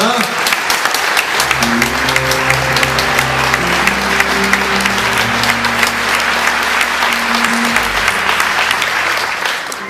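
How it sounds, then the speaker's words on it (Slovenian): A crowd at a closing ceremony gives sustained loud applause, thick continuous clapping with sustained musical tones playing underneath throughout. "Dajmo jim en aplavz"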